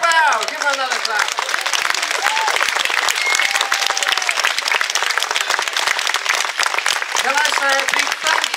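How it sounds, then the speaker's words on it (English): Enthusiastic audience applause for a young symphonic wind band, steady and full throughout, with brief voices and cheers mixed in near the start and end. "Give them another clap."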